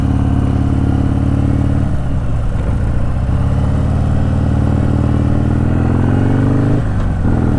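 Harley-Davidson Softail Sport Glide with a Stage II upgrade idling at around 900 RPM, a loud, close, steady low rumble with an even lumpy chop throughout and no voices.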